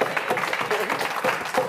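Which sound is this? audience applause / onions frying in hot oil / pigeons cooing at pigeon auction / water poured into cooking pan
audience applause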